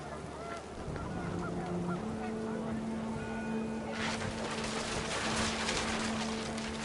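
Panicked geese honk in a noisy flurry over a droning background in the video game What Remains of Edith Finch, with several calls overlapping and a burst of rushing noise partway through.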